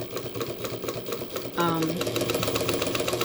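A home sewing machine running steadily with a rhythmic mechanical whir and clatter, fairly close, picking up in intensity partway through.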